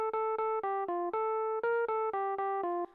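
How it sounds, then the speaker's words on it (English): Default electric piano playing a vocal melody line, a clear run of evenly spaced single notes stepping up and down, soft and alone. "I just use the default electric piano when I'm doing it."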